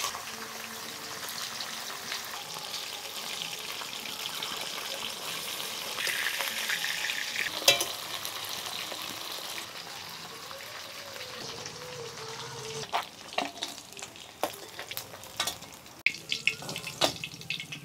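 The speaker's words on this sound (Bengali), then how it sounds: "তেল গরম হয়ে গেছে, সব মাছগুলি ছেড়ে দিলাম তেলের মধ্যে।" Fish frying in hot mustard oil in a wok over a stove gives a steady, close hiss and sizzle, with sharp crackles and spatters growing more pronounced toward the end.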